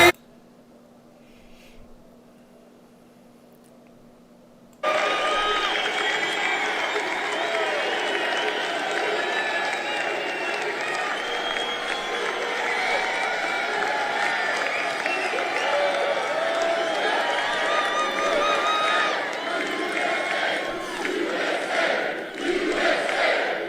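Large crowd at a Trump rally in Atlanta cheering and shouting loudly and continuously, starting abruptly after a few seconds of quiet and sustaining a dense roar to the end.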